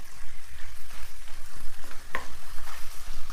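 Chicken pieces frying in oil in a pan, a steady close crackling sizzle with uneven pulses and one brief clink partway through, no voices.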